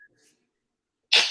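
A single sharp human sneeze bursts out loud and close after a near-silent pause, breathy and broadband with a quick decaying tail.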